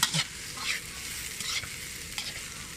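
Egg fried rice is stir-fried in a pan with a soft, steady sizzle, broken by scraping stirs and spatula clatter at intervals, fairly quiet and close.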